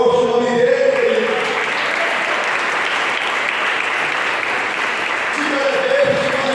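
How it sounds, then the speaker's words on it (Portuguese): A church congregation breaks into loud, full applause that swells and holds for several seconds, with a voice audible at the start and returning as the clapping fades. "aplaude forte o nome dele"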